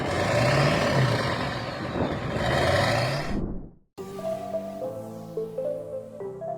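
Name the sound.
pickup truck exhaust through vertical stacks behind cab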